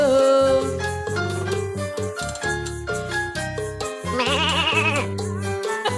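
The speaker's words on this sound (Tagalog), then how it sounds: "may kambing na! May pumapasok ng kambing!" Goat bleats over loud dance-pop music at a Filipino party livehouse, a wavering cry rising above the band for about a second near the end, with the music continuing throughout.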